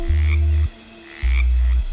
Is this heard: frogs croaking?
yes